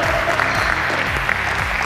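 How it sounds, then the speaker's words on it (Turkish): A team at practice claps together in a steady rhythm, a dense run of hand claps filling the short stretch with faint voices underneath. "tempo biraz alkış"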